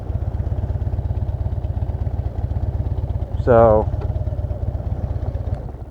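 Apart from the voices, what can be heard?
motorcycle engine idling in parking lot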